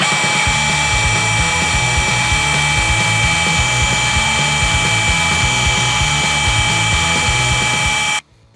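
Drill driving a pump attachment to pump water, a loud steady high-pitched whine with a pulsing mechanical chug underneath that runs continuously, then cuts off abruptly at the end.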